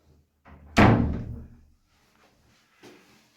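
A modern interior door in a Spanish-style villa shuts with one solid thud, followed by a softer latch click a couple of seconds later, close and alone.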